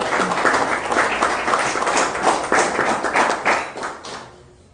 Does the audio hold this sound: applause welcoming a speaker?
yes